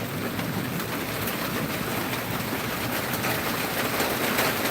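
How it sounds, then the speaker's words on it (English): Heavy rain pours in a steady, dense roar with no breaks, a constant broadband wash close by and no voices over it. "It is raining heavy."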